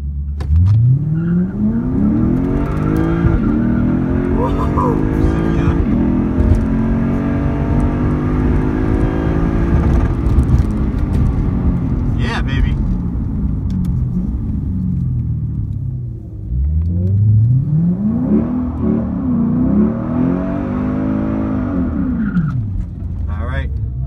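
A Lexus IS F accelerating hard down a drag strip: loud engine revving climbs through gear changes, drops away, then a second surge of acceleration builds near the end, with crowd and track noise around it.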